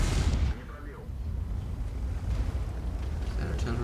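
Artillery fire in the World of Tanks video game opens with a loud blast, then settles into a low rumbling boom and distant mechanical noise, with a voice talking over it.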